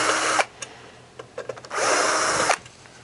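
A power driver fitted with a T20 Torx bit whirs in two loud, sustained bursts as it removes screws from an electrical box on a compact blower, with small clicks and taps between the runs.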